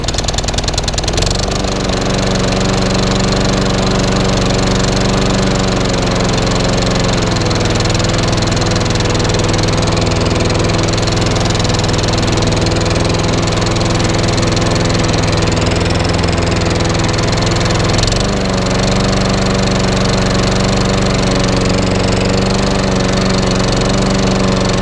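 A small lawn mower engine, formerly seized, runs steadily and loudly throughout, a droning hum with a slight dip in pitch partway through, no voices.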